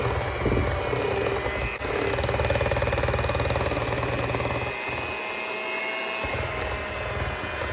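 A stand mixer whirs steadily on low speed while eggs are mixed in for a gingerbread cookie dough, a loud continuous motor drone that holds constant throughout with no voices.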